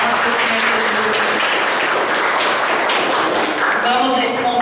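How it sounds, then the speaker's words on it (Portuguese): A church congregation claps together in praise, a dense, continuous wash of applause that stays loud throughout, with scattered voices and faint musical tones underneath. "Uma força de palmas para o Senhor Jesus."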